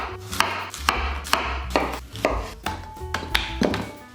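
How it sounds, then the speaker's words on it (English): A knife slices zucchini into rings on a cutting board. About ten crisp, evenly spaced chops land in a steady rhythm, close and clear, with no talking. "We take our zucchini, cut the side, and then we just cut a lot of ring."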